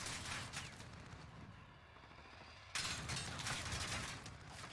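Fully automatic Sykov pistol with an 80-round magazine firing in Modern Warfare, rapid continuous bursts of gunfire with a brief lull before another sustained burst, loud and dense throughout.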